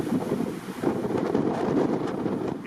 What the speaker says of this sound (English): it starts to get really windy